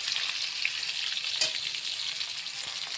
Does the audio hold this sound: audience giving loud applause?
no